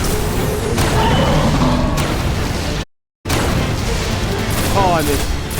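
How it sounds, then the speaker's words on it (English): Rocket launcher fire in the video game Destiny 1: loud booming blasts and crackling bursts fill the clip, broken by a brief dropout, with noisy explosive texture continuing after. "Some rocket launcher."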